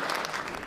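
Audience applause at a civic address on Cincinnati employment gains, a short, dense wash of many hands clapping, steady and fairly loud throughout with no voices on top.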